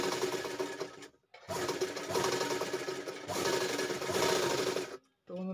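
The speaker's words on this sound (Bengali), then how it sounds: "আমি এটাকে পুরোটা সেলাই করে নিচ্ছি, আপনারা দেখুন।" A sewing machine stitches fabric piping made with cord, running in three steady whirring bursts separated by brief pauses, close and loud with no talk.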